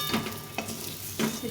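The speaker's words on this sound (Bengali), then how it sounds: "এই তেলে এখন পটলগুলো একটু ভেজে নেব, হালকা করে ভেজে নেব" Pieces of pointed gourd (potol) frying in hot oil, a steady close sizzle broken by a few scraping stirs of a utensil against the pan.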